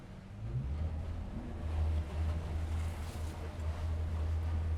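The engine of an Evolution 600 boat rumbles low and steady as wind buffets the microphone and water rushes past, with a surge of spray as the hull crosses a wave.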